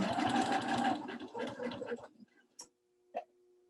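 A sewing machine stitches a half-inch seam on a quilted Christmas throw pillow, a quick burst of close, rapid mechanical chatter for about two seconds, then a couple of faint isolated clicks in near silence.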